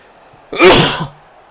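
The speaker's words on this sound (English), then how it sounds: "Trying to play while I'm sneezing here." A single sharp, close sneeze bursts out and then fades in quiet surroundings.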